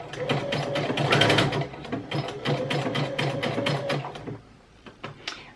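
A sewing machine stitching bra fabric at a 2.5 mm zigzag width and 2.0 mm length, rapid rhythmic needle clatter running in close, loud bursts with brief pauses, slowing to a few final stitches.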